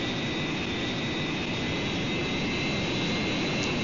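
A jet aircraft in a flight combat simulator roars continuously as it rolls for takeoff, a dense steady engine rush with a high whine riding on top, loud and unbroken with no voices.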